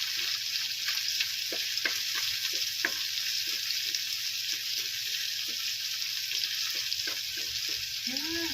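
Ginger and garlic fry in a hot pan with a steady close sizzle, broken by scattered clinks and scrapes of a utensil stirring, with no talking.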